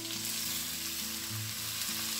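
Pork and onion sauté in hot oil in a pan, producing a loud, steady close-up sizzle that crackles evenly throughout, with soft stirring underneath and no voices.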